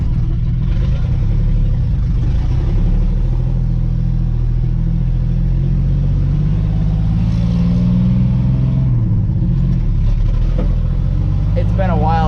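A 1980 Chevy C20 pickup with a small-block V8 and SM465 manual transmission, reportedly running poorly, drones steadily from inside the cab while driving, a constant loud low rumble with slight rises in revs and a voice talking over it.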